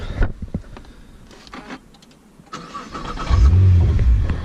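A Litchfield-tuned 620bhp Nissan GT-R is started with its key: quiet clicks and rustling give way to a close engine turning over and catching into a loud, deep idle.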